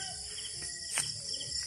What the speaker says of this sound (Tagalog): maririnig mo dito puro kuliglig.